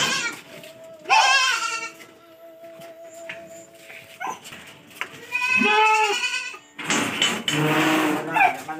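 Goats, including a buck, bleat loudly and repeatedly up close in a farm pen, with people talking quietly between the calls.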